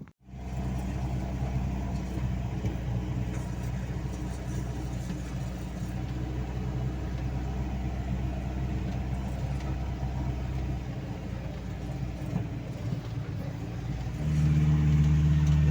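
A Vetyor all-terrain vehicle drives across a deep-snow field in second gear, its engine a steady, loud, close drone with a low rumble that holds even throughout and grows slightly heavier near the end.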